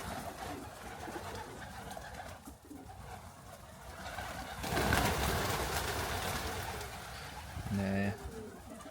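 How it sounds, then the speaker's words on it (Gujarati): Pigeons gather on tiled roofs and a terrace on a sunny day, cooing in a steady low murmur with a louder coo near the end, while people talk in the background and a car passes faintly. "આજે બહુ જ ઘણા બધા કબૂતર આવી ગયા છે."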